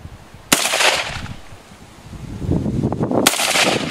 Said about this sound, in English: Right, here goes Chris with the exploding targets